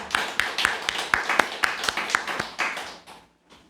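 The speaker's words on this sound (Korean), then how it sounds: "다 함께 박수 한번 쳐드리겠습니다" A church congregation claps together during a Sunday service, a quick run of sharp, fairly regular claps for about three seconds that thin out and fade at the end.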